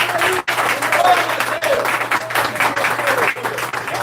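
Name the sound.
church congregation applauding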